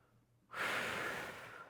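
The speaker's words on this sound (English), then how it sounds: "Breathing." A single audible breath, a quick sharp inhale or exhale during a mat Pilates exercise, heard close and fairly faint after a short quiet moment.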